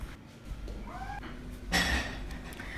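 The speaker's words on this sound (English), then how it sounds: "The outdoor cat sound." An outdoor cat meows a couple of times, drawn-out wavering cries at moderate distance, the second louder and more strained, over a quiet indoor background.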